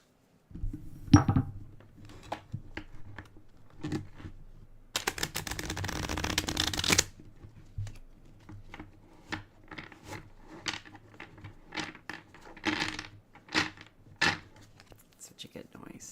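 Cards being shuffled: scattered soft clicks and taps, with one dense riffling burst lasting about two seconds, close by and fairly quiet.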